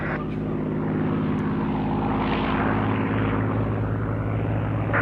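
A Supermarine Spitfire flies overhead with a deep, throbbing piston-engine drone, loud and continuous, rising slightly in intensity as it passes at an airfield display.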